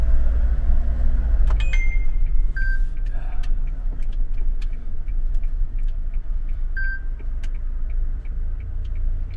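A 2021 Hyundai Porter 2 truck with an extra-long, high-top body accelerates hard, giving a loud, steady engine drone and road rumble with a few faint ticks on top.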